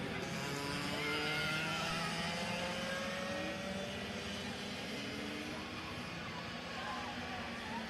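Kart engines whine past on the straightaway at a Micro and Mini ROK race at Sonoma, a steady loud buzzing drone that rises slightly and holds throughout, with a faint voice under the noise.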